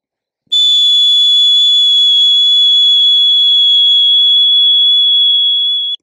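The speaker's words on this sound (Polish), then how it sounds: "użyjemy gwizdka i zrobimy długi gwizdek" A dog-training whistle gives one long, loud, steady blast of about five and a half seconds, high and piercing with a constant pitch, sounding alone with no talk.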